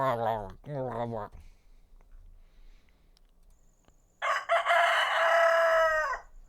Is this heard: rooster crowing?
yes